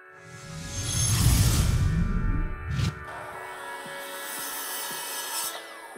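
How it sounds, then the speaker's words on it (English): A saw cuts through old mahogany hardwood boards to length, giving a few seconds of dense, close rasping strokes. The cutting then stops, leaving a steady low hum with scattered light knocks and clicks. "I took some old mahogany and cut it to the length of the rails and stiles."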